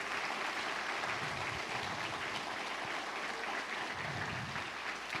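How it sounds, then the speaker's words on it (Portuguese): Church congregation applause during a worship service, a soft, continuous wash of many hands clapping in a large room, steady and somewhat distant, with no distinct voices over it. "você vai dar uma salva de palmas e vai glorificar a Deus"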